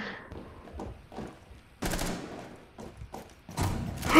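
Gunfire in a hostage-rescue video game, several sharp loud bursts and thuds spread across a few seconds amid faint background game noise.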